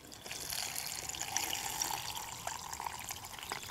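Creek water is poured onto dehydrated chili outdoors on a backpacking trip, giving a soft, continuous trickle and splash. It is close and moderately quiet, with small bright drips throughout and no voices.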